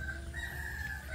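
Free-range village chickens (ayam kampung) in a rearing area, with a faint, steady chicken call and low background noise.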